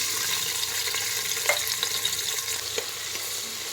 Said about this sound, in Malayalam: കുക്കർ വെച്ചു വെളിച്ചെണ്ണ ഒഴിച്ചോട്ടോ സ്വല്പം വെളുത്തുള്ളി ഇഞ്ചി പേസ്റ്റ് ഇട്ട്